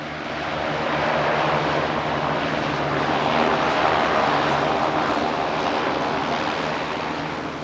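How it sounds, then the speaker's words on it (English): Steady roar of a light propeller aircraft's engine as it lands on a short island runway in Chile, loud and continuous throughout, with no voices. "The runway is just about long enough to accommodate a light aeroplane"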